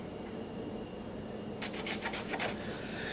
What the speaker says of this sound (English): Now you want to make sure that you wipe all this so there's no grit that is in here.